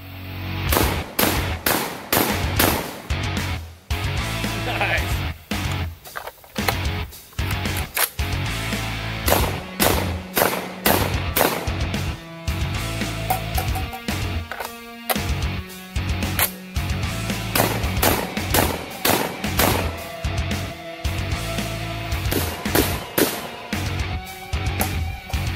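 An RIA VRBP100 12 gauge bullpup shotgun fired repeatedly, a long run of loud sharp blasts in quick irregular bursts with brief pauses between them, close and without talk.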